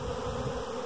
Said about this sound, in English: We got one bee fanning on top there